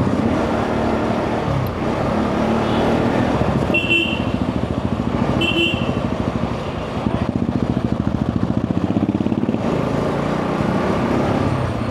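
A Bullet motorcycle engine runs steadily and close throughout the ride, with a continuous low rumble and road and wind noise.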